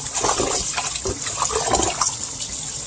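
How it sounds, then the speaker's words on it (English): Tap water running steadily while rice is washed by hand for oxtail with rice and peas, a continuous close gushing and splashing with small swishes of grains and no speech. "I just like to wash my rice"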